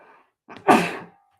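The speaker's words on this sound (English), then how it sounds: "Sorry, I'm going to sneeze." A single loud sneeze bursts out after a short sharp inhale, preceded by a faint murmur.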